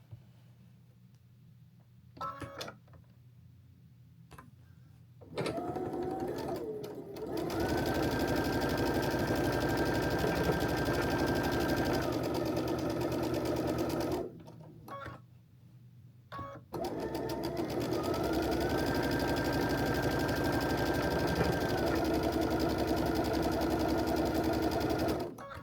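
A sewing machine stitches a charity quilt in two long steady runs, a brief start then sustained whirring with a pause between passes, close and loud with a faint voice at moments.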